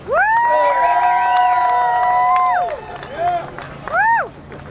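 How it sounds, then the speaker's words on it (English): At an outdoor police-accountability rally, a crowd claps and cheers loudly while shrill whistles and high shouted whoops ring out over it, dipping briefly before another whoop rises near the end. "Let's give a round of applause for Jason."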